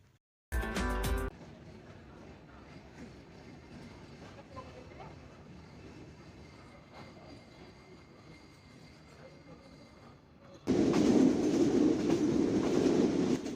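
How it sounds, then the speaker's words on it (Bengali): Padma Express passenger train pulling out of Rajshahi railway station, a steady rumbling rail hum with a brief loud burst near the start and a louder rush of wheels and track noise building toward the end. "নির্ধারিত সময় বিকেল ৪টায় Padma express train Rajshahi rail station থেকে তার যাত্রা শুরু করলো"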